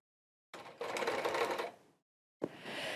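A sewing machine stitches leather chaps in two bursts, a longer run of rapid stitching followed by a pause and then a second run starting, close and fairly loud with no talk.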